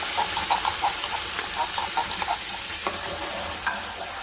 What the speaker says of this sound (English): Now I'm gonna add in my tomato sauce.